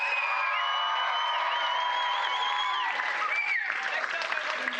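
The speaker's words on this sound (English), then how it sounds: "So huge burst of applause for these." Theatre audience at an improv games national championship bursts into sustained applause with a few whoops, steady and full, while a voice speaks over it.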